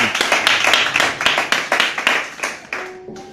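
A church congregation claps in praise, a run of quick, sharp hand claps in a fairly steady rhythm, close and loud, thinning out and fading near the end.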